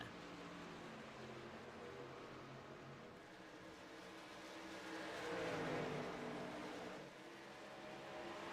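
Race trucks in a video game roar back to speed on a restart at Dover Motor Speedway, a steady engine drone that swells briefly as they pass, heard faintly with no voices.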